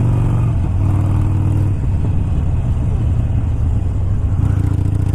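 A 2019 Harley Davidson Sportster motorcycle opening up while leaning into a turn, its engine a loud, steady close rumble that holds strong throughout with a slight lift near the end, no talking.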